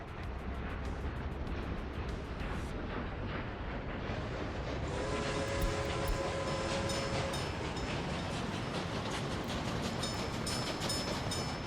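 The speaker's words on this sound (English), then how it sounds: "did they change the starting sound of the train?" In a video game, a train pulls away from a stop: a continuous loud rolling rumble with clattering wheels, and a thin tonal whine rising briefly midway.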